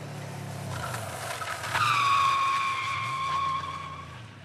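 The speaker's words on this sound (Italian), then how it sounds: "Ultima ma importantissima parte del corso, la frenata." A motorcycle brakes hard during a safety riding course, the tire squealing in a long, loud screech over the engine's droning hum, with the engine note dropping away as it slows.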